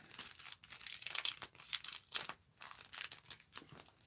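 A dried paper napkin being peeled away from the top of a surface, giving close, quiet crinkling and tearing rustles in short irregular bursts.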